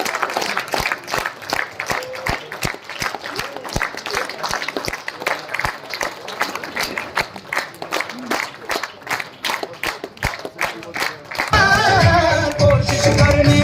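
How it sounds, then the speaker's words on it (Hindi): Applause for a speaker at a workshop in Gaya, Bihar, sharp rhythmic clapping from a crowd, loud and close, followed by a burst of louder voices and music at the end. "जोरदार ताली प्रसन्नजीत सर के लिए"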